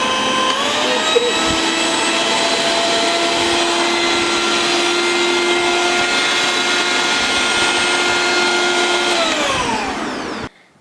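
A Philips HR3700/30 hand mixer runs at speed 3 with a loud, steady, high motor whine and buzzing tones held for about nine seconds, then winds down and stops.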